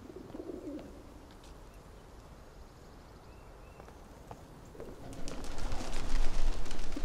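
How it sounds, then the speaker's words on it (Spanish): Pigeons coo softly in a game environment from The Medium, a few low throaty calls over a grainy outdoor ambience, then a louder rustling flurry near the end as the birds scatter. "Venga, palomas fuera."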